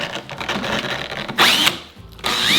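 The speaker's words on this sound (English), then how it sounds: "Before I started drilling the hole, I used some painter's tape to mark the depth that I would need the drill bit to go to" Power drill boring a hole into a solid white oak post during a staircase renovation, heard as short, loud whining bursts of the motor separated by brief pauses.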